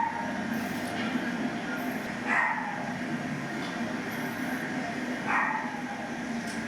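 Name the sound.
dog barking, played audio recording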